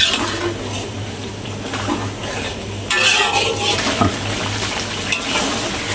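Asam pedas spice paste, pounded in a mortar, fries in hot oil while being stirred, giving a close, continuous sizzle with scraping and clinks of a utensil against the pan, a louder burst of stirring midway.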